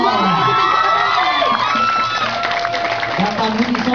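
Loud crowd cheering and shouting at a Betawi arts performance, with whoops and excited voices over scattered applause, close and continuous throughout.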